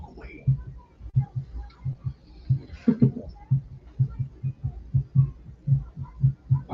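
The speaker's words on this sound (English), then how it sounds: "Why's your heart beating so fast?" A fast heartbeat in a TV show, steady quick double thumps, low and pounding, repeating evenly throughout with faint background sound behind.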